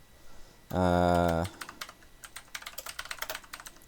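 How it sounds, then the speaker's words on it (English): A loud computer keyboard clatters in quick, close bursts of keystrokes following a short sustained vocal tone, with the typing continuing unevenly to the end. "Sorry, my keyboard's probably really loud."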